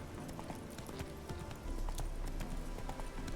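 Roach the horse's hooves in The Witcher 3 clop steadily as the horse heads downhill, a close, continuous patter of hoofbeats over game ambience with no talk.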